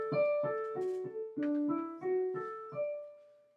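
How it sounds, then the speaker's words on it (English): A unison horn line from page 3 sounds as a short sequence of about eight detached notes with a small stepwise melody. The tones are soft and clear and played without talk. "that's the unison horn line that sounds like this."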